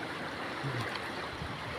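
Strong river current rushing steadily, a broad continuous wash of flowing water heard close by with no voices.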